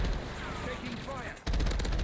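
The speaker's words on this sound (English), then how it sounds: "Taking fire." Gunfire in the Black Ops Royale video game: a voice talks over steady game noise, then a loud, rapid burst of automatic shots cuts in and carries on.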